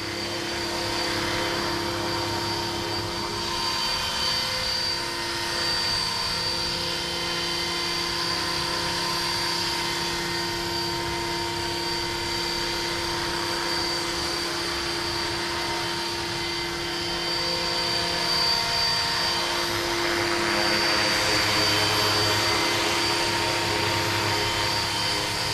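A Horizon Hobby Blade 330S RC helicopter with a MicroHeli three-bladed head and metal swashplate flies nearby, its rotor and motor giving a steady, loud whine and buzz that holds throughout, swelling slightly near the end.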